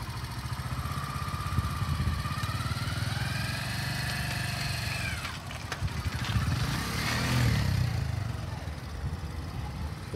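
A motorcycle engine runs steadily during a riding skills exercise, its pitch rising and falling as the rider maneuvers, with a louder surge near the end and faint voices in the background.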